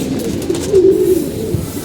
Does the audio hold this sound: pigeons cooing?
yes